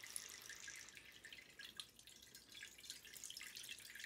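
Water drains from a washing machine's pump hatch into a Pyrex dish, a faint, steady trickle with light dripping and splashing, heard alone.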